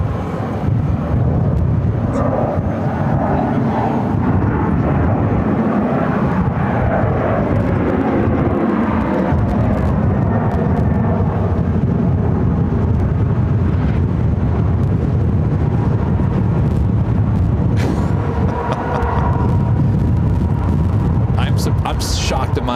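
An Alaska Airlines airliner at Phoenix airport, a loud continuous jet roar with strong wind buffeting the microphone, filling the whole stretch without letup.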